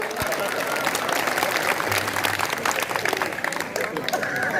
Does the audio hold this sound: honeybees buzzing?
no